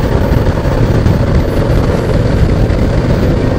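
A 2018 Harley-Davidson Heritage 114 cruiser runs at steady speed on the road, its engine a loud, continuous low rumble blended with rushing wind noise, with no talk.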